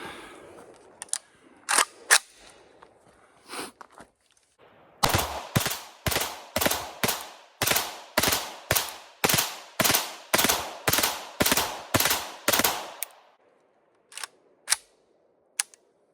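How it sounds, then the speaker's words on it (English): A Century Arms VSKA rifle fires a rapid string of about fifteen loud, evenly spaced shots outdoors, preceded and followed by a few scattered single shots and clicks. "we're going to do a rapid fire, which to me is a waste of ammunition, but we're testing the action in the rifle itself."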